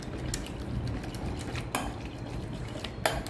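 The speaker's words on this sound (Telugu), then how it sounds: "ఇప్పుడు ఈ 4 ఎగ్స్ కూడా మనం విస్కర్తో బాగా స్మాష్ చేసుకుందాం" Four eggs are whisked by hand for homemade egg junnu, producing a close, quiet run of quick metallic clinks and taps against the bowl with a light wet swish beneath.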